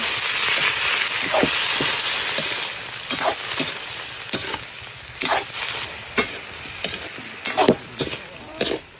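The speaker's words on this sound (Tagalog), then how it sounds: "ilalagay ko na itong ating mga kamaron. Ayan, inapit mo dyan. Halo-haloin lang natin." Shrimp stirred into sautéed aromatics in a hot pan. A loud, steady sizzle runs throughout, broken by repeated sharp scrapes and knocks of the utensil that grow busier toward the end.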